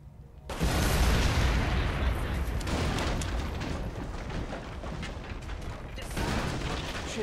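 Explosion bringing down a ceiling in the video game The Saboteur: a sudden loud blast followed by a long, heavy rumble of collapsing debris, close and alone.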